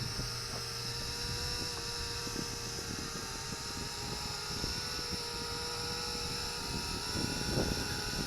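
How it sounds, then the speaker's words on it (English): Small JJRC H61 optical flow folding selfie quadcopter hovering and flying, a steady high-pitched whine of tiny propellers holding at an even level throughout with faint handling noises, no talking. "show myself again in the view with this Selfie quadcopter"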